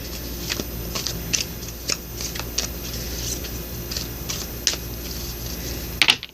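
Rapid papery flicks and soft riffling clicks of tarot cards being shuffled, steady and close, with a few sharper snaps near the end.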